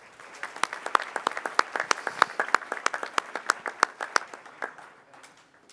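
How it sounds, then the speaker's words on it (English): Applause for an award winner at a board meeting, a small group clapping with distinct, uneven claps that build and then thin out near the end, with no talk over it. "Give her a big round of applause."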